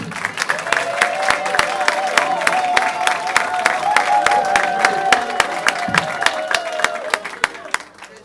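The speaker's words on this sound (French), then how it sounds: "Applaudissez." Audience applause at a gathering honouring comedians, with dense clapping and crowd noise and a sustained tonal sound running beneath, the clapping tapering off at the end.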